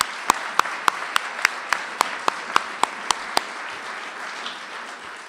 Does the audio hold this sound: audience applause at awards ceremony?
yes